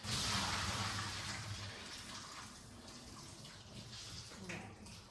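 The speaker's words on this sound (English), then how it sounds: "But you would just put it this way, hold it, and drain the water." Cooking water pours out through a strainer while draining, a steady broad rushing gush that is loudest at the start and then runs on evenly, with brief speech over it.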